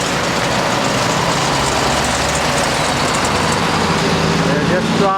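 A 1924 Dodge 116 Tourer with a 3.5 litre four-cylinder engine runs steadily nearby, a loud, continuous, rough low rumble with an even throb that holds without pause.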